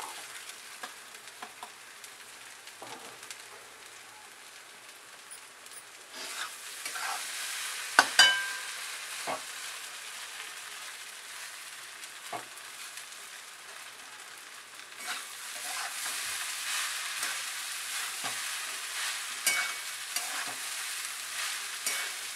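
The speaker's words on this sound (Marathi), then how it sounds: "हे बघा आता असं चांगलं परतून परतून घ्यायचं चांगले पोहे" Poha being sautéed and stirred in a pan, a steady sizzle punctuated by scraping and clinking of the spoon against the pan, which grows louder partway through and carries no speech.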